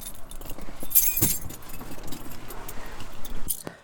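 Car keys jangling on a key ring, a brief bright metallic rattle near the start and another near the end, close, over faint background noise.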